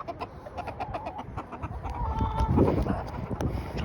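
Chickens cluck and mutter in a backyard coop, with a rooster crowing faintly in the mix; scratchy, irregular bird calls and rustling continue throughout at a moderate distance.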